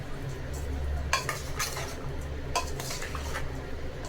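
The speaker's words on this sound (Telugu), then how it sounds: "ఇప్పుడు ఇవన్నీ మిక్స్ చేసుకుందాం." A spoon stirs sweet corn salad in a bowl, soft repeated scraping and clinking strokes in a few quick bursts over a low background hum, fairly faint and close.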